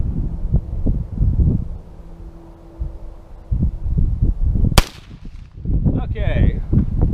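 A single sharp, loud rifle shot fired outdoors with reloaded cartridges loaded with military surplus powder, standing out from a windy background and followed by a brief ringing decay. Faint voices murmur before and after the shot.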